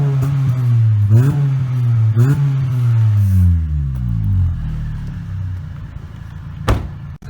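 Honda Civic EP2 fitted with a Toyosport Spoon N1 exhaust, revved in several sharp blips, each rising and then falling, before settling back to a deep, rumbling idle, loud and close, with a thump near the end.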